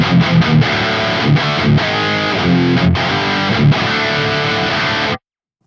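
High-gain Archetype Gojira X guitar amp tone with the master set just above midday: a loud, saturated electric guitar riff with chugging palm mutes and short gaps, close and without voices.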